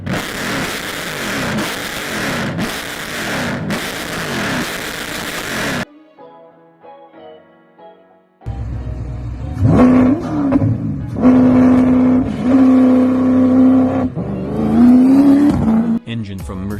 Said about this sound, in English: The sound that this engine makes is a perfect match for the racetrack appearance of this Lotus.